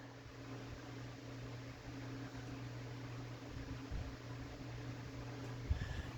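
An antique Jacksonville Vicksburg ceiling fan runs at reduced speed, its motor giving a faint, steady low hum with a soft whirring drone and a small knock near the end.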